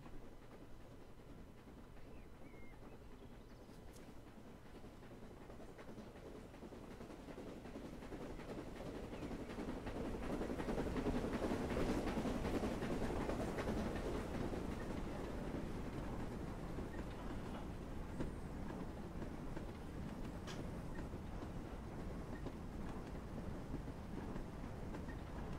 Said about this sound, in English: I've got another train coming past in a moment